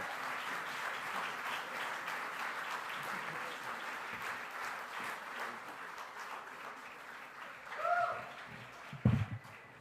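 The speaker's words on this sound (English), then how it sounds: "So since you're in the clapping mood, keep clapping, ladies and gentlemen." Dinner audience at a champions gala applauding steadily as a guitarist takes the stage, a broad wash of clapping that slowly thins, with a couple of louder thumps near the end.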